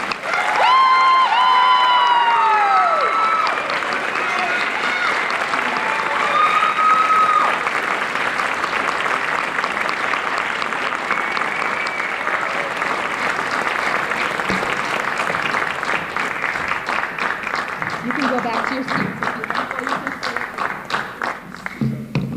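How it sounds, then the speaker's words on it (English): A high school band concert audience gives the graduating band seniors a long, loud round of applause, dense clapping with scattered whistles and cheers sustained for over twenty seconds. "Let's give our 2026 band seniors a huge round of applause."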